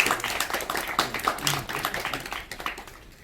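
Audience applause at an award ceremony held by a provincial council, a soft, distant patter of scattered clapping from a modest crowd that continues for about three seconds.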